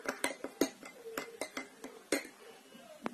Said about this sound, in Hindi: उसके बाद इसे अच्छे से आपको मिक्स कर देना है